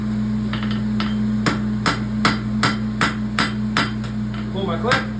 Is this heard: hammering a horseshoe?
yes